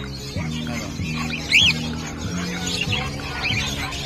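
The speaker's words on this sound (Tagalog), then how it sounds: "At si Boss Lino, tingnan natin mga ibon niya ngayon dito." Caged birds in a mini aviary at the Bocaue pet market give scattered chirps and one brief, sharper squawk, set against a steady droning background with some talk nearby.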